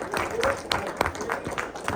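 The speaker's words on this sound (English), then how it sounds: "let's have a round of applause before we wrap up for the fans first" Audience applause at a comic con panel with the 1987–1996 TMNT cast, a steady crowd clapping throughout with scattered louder claps, moderately close.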